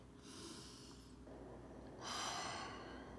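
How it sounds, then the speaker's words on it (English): A deep breath drawn in through the nose during a guided yoga exercise, a soft airy rush repeated twice, with the second inhale fuller and louder than the first. "Let's smell the flower, but take a really deep sniff."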